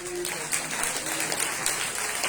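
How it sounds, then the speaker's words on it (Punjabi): A church congregation claps together during a Punjabi-language sermon, a dense, steady patter of many hands that carries on for about two seconds with faint voices mixed in. "ਤਾਲੀਆਂ ਵਜਾਓ"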